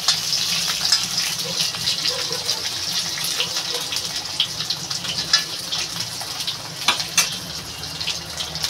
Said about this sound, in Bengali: এবার আমি সজনে ডাঁটাটা হালকা একটু ভেজে নিচ্ছি।